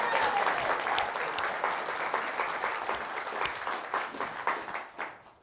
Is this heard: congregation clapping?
yes